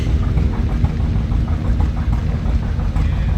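A 1937 John Deere G tractor with a straight pipe runs steadily nearby at a parade, giving a loud, low, rhythmic two-cylinder thumping with no talking over it.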